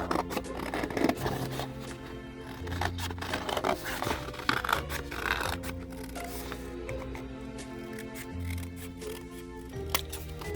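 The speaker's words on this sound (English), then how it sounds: "step 1 is going to be to cut them out of your thicker paper" Scissors cut out shapes from thick paper for a craft project, giving repeated crisp snips and rustling paper scrapes close up, fairly quiet, with no talking.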